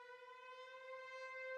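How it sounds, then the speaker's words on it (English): A sustained, rising siren-like synth tone from a UK drill music loop holds steady and alone, with no other instruments. "and that siren"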